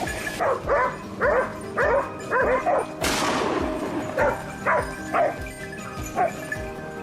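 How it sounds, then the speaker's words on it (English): A hunting hound on a Texas farm, near a chase after invasive wild boars, barks in repeated loud, close bursts with yips mixed in. A sharp crack near the midpoint briefly cuts through the barking. "The hound's barking erupted again, grabbing Kevin's attention."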